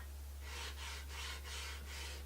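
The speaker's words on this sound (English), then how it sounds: "So you can hear the difference in sanding." Rhythmic back-and-forth rasping of a sanding disc on a surface, about five strokes, quiet and close over a low steady hum.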